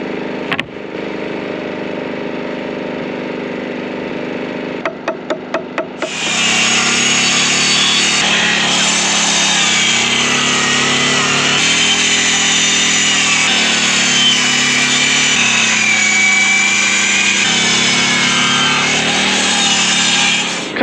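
A power saw cuts through a stack of six plywood boards at once during a hay barn build, a loud, steady, whining roar that starts after a few short bursts and runs on without a break.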